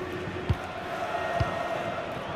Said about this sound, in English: Crowd settling back down here in the Santiago Bernabeu Stadium.